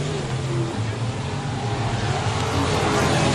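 Race cars at a dirt track accelerate hard toward the finish line in a close heat, a loud, steady engine roar filling the scene throughout, with a voice talking over it.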